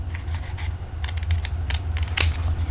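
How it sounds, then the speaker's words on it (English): Regular scissors trimming a paper holly-berry craft, giving a run of close, crisp snips and scratchy cuts at an uneven pace over a low steady hum, with no talking. "I'm just going to take a regular pair of scissors, and I'm going to trim close as I can to those little holly berries."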